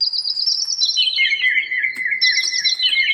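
Bright, clear bird chirps from a Teenage Engineering EP-133 KO II sampler repeat in quick stepped phrases, each run sliding downward in pitch, close and loud against near silence.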